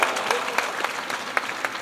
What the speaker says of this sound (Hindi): और जोरदार तालियां बजाए एक बार सुदामा।